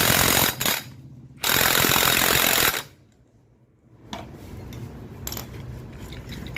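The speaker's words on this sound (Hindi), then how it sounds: "मशीन से उसको टाइट करेंगे।" Power tool tightening bolts during a full engine fitting on a Hero Super Splendor or Glamour motorcycle, giving two loud bursts of hard rattling impact, then a quiet gap and softer workshop clatter.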